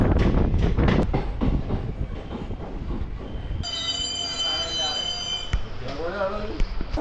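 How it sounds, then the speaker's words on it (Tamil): A train rolls into Ottapalam railway station with loud, high metallic wheel squeals and rumbling, sustained shrieking tones toward the end, and voices talking over it. "இப்போது ட்ரெயின் உள்ளே என்ட்ரு ஆகுறது ஒட்டப்பாலம் ரயில்வே ஸ்டேஷனுங்க"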